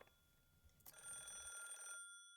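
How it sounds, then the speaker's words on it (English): A telephone rings once in a visual novel game, a bright electronic trill lasting about a second after a short click, then cutting off. "At that moment, the phone rang."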